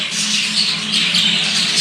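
Continuous shrill, scratchy squawking and chattering from budgies, loud and close, with several birds calling over one another.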